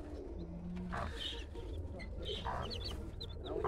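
A mother hen clucks softly among her chicks, with faint high peeps and other bird calls mixed into a busy outdoor poultry yard.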